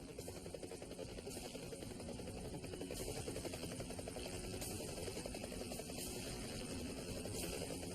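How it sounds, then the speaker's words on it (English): A helicopter fitted with an infrared heat-seeking system flies during a search, its rotor chop and engine drone steady and fairly distant throughout, with no voices over it. "they provided me with a helicopter equipped with an infrared system that's a heat-seeking system."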